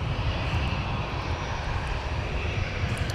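Jet aircraft engines rumble steadily at MSP airport in the Twin Cities, a loud continuous roar with broad hiss, heard at a distance.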